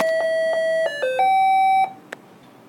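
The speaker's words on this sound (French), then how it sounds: "Après ce son de cloche" A clean electronic ding-dong chime sounds alone, several bright tones in a short melodic sequence, then a soft tap as it ends.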